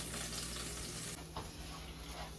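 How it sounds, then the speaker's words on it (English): Uncooked white rice toasting in vegetable oil with garlic gives a steady, close sizzle and crackle, with a stirring scrape partway through and the frying continuing underneath. "So that uncooked rice is cooking in here"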